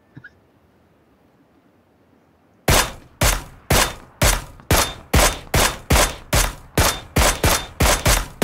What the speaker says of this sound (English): Where are you shooting now? I'm shooting at the smoke, yo.